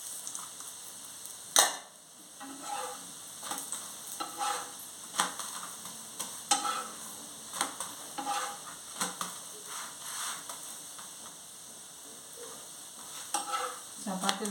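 Beetroot chapati frying in oil on a flat pan, giving a steady soft sizzle with repeated light scraping and stirring taps across the clip, close and fairly quiet, with no voices.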